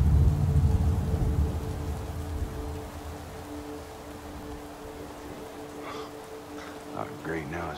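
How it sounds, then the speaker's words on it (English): Rain hisses steadily in the video game Madden 18, with a low rumble of thunder fading at the start; a voice speaks faintly near the end. "Not great now, it's raining."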